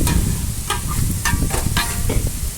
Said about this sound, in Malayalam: ചെറിയ ഉള്ളി ഇത്തിരി എടുത്ത് വെച്ചിട്ടുണ്ട്. അപ്പോൾ അതായത് നമുക്ക് എടുത്തിടാം.